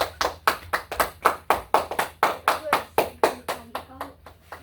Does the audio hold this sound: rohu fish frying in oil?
no